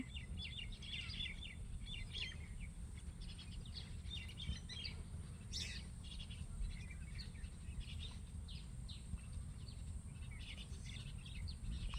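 A flock of small birds chirps in the open, faint scattered tweets over a low steady outdoor rumble, with no voices.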